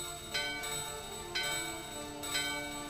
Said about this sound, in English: The bell in your hand and the doorbell are ringing.